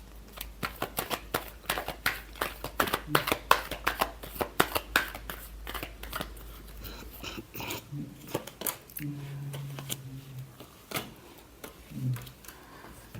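Tarot cards shuffled by hand in repeated quick riffling bursts, close and crisp, with a voice speaking briefly in the later part.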